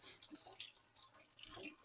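Kitchen tap water running and splashing into a sink while cooking beef stroganoff, faint and intermittent with small splashes and drips, no voices.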